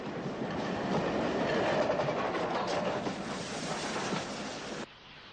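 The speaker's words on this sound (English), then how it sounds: "a close-up of the large driving wheels of number 30861 Lord Anson at speed" Southern Railway steam locomotive 30861 Lord Anson running at speed, a dense rushing roar of its large driving wheels and train with rhythmic clatter, loud and close, cutting off abruptly near the end.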